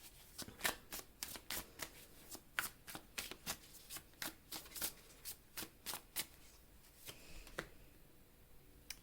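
Tarot cards are shuffled and drawn in quick, quiet riffling bursts with a steady rhythm. A softer slide and snap of cards follows near the end.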